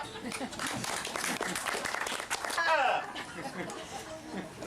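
Applause from an audience at the close of a gospel and bluegrass pickers' show, mixed with chatter and some chuckling, with a short whistle-like sound midway.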